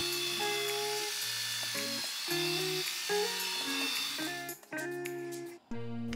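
An electric epilator hums as it removes hair. Its motor whine is close and fairly loud, shifting pitch in stepped bursts and briefly cutting out near the end, with no voices.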